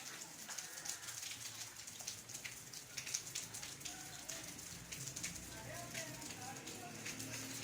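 Dense, continuous heavy rain patters on a hard surface in Gujrat district, a fine crackling hiss with scattered sharper drops, heard at a fairly low level throughout.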